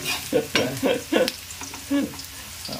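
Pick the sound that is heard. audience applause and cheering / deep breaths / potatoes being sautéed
potatoes being sautéed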